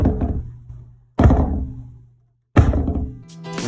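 A tightened scooter with its compression adjusted is bounced or dropped, giving three solid, loud thunks with a short pause between each, every impact decaying quickly with a faint ringing tail.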